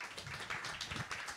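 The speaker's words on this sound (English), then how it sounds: "Give them a round of applause" Scattered audience clapping, faint and brief, a light patter of hands in a room.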